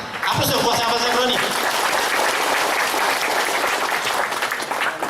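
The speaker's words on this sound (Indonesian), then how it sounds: "Aplaus buat sahabat Jamroni." Audience applause at a GP Ansor anniversary gathering in an Islamic boarding school, loud sustained clapping from a crowd, following a brief voice at the start.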